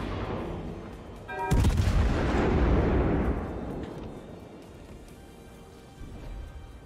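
A heavy naval gun salvo fires in the World of Warships video game, a loud booming blast that rolls and decays over several seconds, with a fainter thump near the end and no talking.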